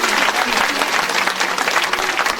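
Loud, sustained applause from the audience at a Hindu Ram Katha religious discourse gathering in Harda, steady dense clapping throughout with no pauses.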